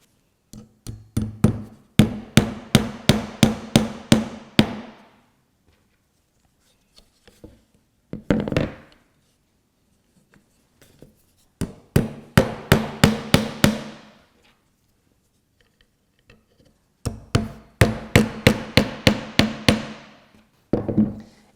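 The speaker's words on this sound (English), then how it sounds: "So I'm going to nail this down." A hammer drives nails into a wooden workpiece on a benchtop tool chest build, with rapid bursts of close, sharp taps in four clusters separated by quiet pauses.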